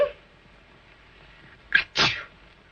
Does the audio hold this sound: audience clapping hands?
no